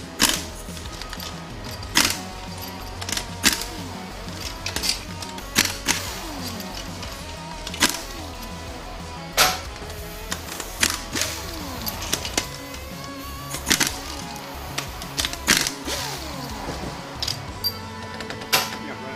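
A pump bolt comes out of a Ford E4OD transmission on a Ford Lightning, with repeated sharp metallic clicks and ratcheting tool bursts in an irregular rhythm, close and fairly loud, separated by short pauses.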